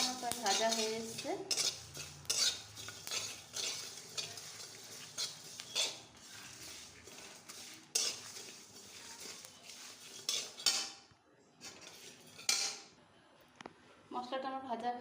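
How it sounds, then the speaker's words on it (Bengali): Spices for mango pickle dry-roasting in an empty pan, with a metal spatula scraping and clattering as it stirs, irregular close strokes that pause briefly near the end, and a voice speaking at the start and close. "মশলাটা আমার প্রায় ভাজা হয়ে এসছে।"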